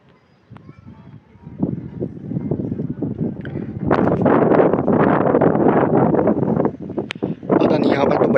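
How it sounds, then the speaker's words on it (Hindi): Strong outdoor wind buffets a phone microphone with loud, rumbling roars that swell and gust, growing rougher and more intense midway, with a muffled voice partly buried beneath the blasts. "यहाँ पर तो बड़ी हवा चल रही है"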